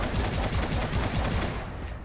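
Rapid automatic gunfire from Warhammer 40K: Eternal Crusade, a sci-fi shooter: a continuous, fast rattling fusillade of shots, steady and fairly loud throughout with no talking.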